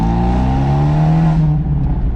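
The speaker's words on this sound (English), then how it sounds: "I'm hearing all these great sounds as the exhaust reverberates off" Abarth 124 Spider driven with the roof down, its exhaust reverberating off surrounding trees: a loud, steady engine drone with strong low harmonics that thins out and quiets in the last half second, with no talk.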